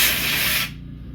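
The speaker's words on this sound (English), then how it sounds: "Noise alert, got a blowgun here." A compressed air blowgun blasts into a carburetor with a loud, sharp hiss that holds steady for most of a second, then cuts off abruptly, leaving a low workshop hum.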